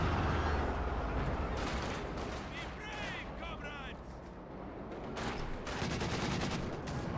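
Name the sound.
unit force-firing at the ground, Company of Heroes 2 video game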